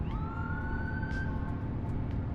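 Police car siren wailing in a truck driving video game with a 1970s Fleetstar 2070A logging truck, a steady rising-and-holding wail over loud rumbling engine and road noise, no talking.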